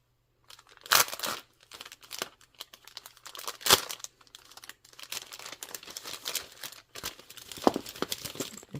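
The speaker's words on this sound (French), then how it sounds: "J'espère que ça ne fera pas trop de bruit de plastique" Plastic packaging around a pen and its accessories crinkles and tears in close, irregular bursts, with sharp rustling peaks between quieter handling noises and no talking.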